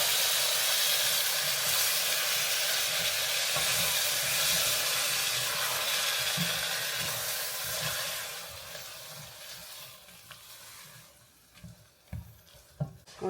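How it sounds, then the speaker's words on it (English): Diced tomatoes hitting a hot Hoover stew pot of beans and franks, a loud bright sizzle and steamy hiss that slowly fades, ending with a few scattered clinks and stirring knocks. "I'm going to toss in those diced tomatoes."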